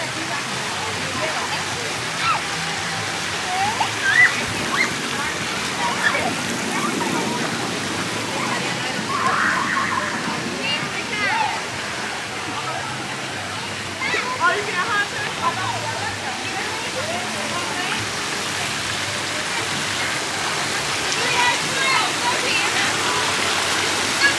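Constant rushing and splashing of moving water in a water park lazy river fills the scene, with faint scattered sounds over it and no clear voices.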